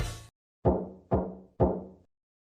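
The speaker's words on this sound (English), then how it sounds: "Then I heard a knocking at the door." Three firm knocks on a wooden door sound in a quiet room in a London detective mystery game, evenly spaced and close, after a short burst of other sound at the start.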